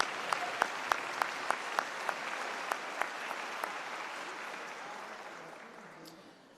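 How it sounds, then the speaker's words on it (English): Audience applause for a university big band at a convocation ceremony, a broad wash of clapping with a few sharp nearby claps standing out early, then slowly fading away. "One more big round of applause."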